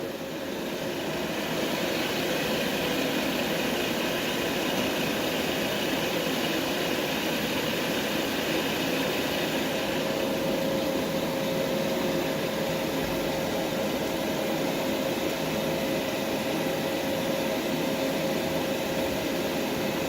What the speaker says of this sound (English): So the recovery machine pulls a slight vacuum itself.